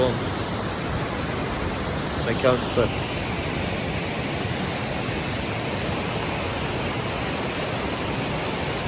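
The Kapuzbaşı waterfall roars as a steady, broad wash of falling water that fills the whole stretch, while a voice speaks briefly early on.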